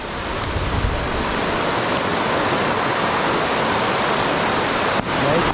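Rain falling beside a river in Antique Province, Philippines: a loud, dense, continuous hiss of rainfall and rushing water with no clear speech.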